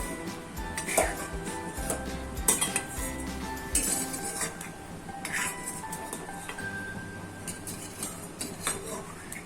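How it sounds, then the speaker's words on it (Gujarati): Roasted dry fruits for sabudana kheer being scraped from the pan into a metal vessel, with repeated clinks and scrapes of a spoon against metal at an uneven rhythm, fairly close and moderately quiet. "આપણે હવે એક વાસણમાં કાઢી લેશું।"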